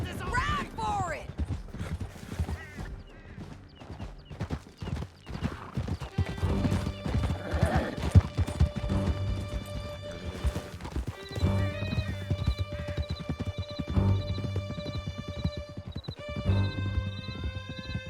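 Horses gallop with dense clip-clopping hooves and whinny repeatedly during a canyon chase in the video game Red Dead Redemption II, with people shouting over the hoofbeats.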